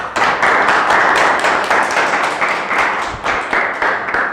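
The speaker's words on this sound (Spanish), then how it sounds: "Démosle un fuerte aplauso, por favor" An audience at a talk on the solar system claps steadily together, a dense continuous patter of hands with no voices over it.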